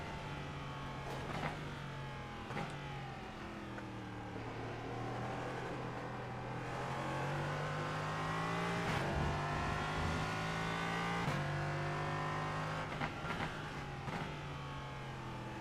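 Engine of an LMP3 prototype race car in iRacing at Oschersleben, a steady loud high-revving drone with harmonic pitch rising and falling through gear shifts, several sharp upshift breaks along the way, with no talking.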